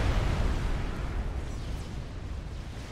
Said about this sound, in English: Juicy ass washer bomb. On one of Grimplex's bases coming in. Here it comes. Kaboom!